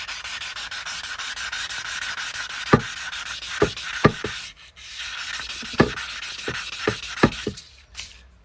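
A pitted fork stanchion from an Aprilia RS4 125 gets light hand sanding with 1200-grit paper, a close continuous dry rasping rub broken by several sharper scratchy strokes.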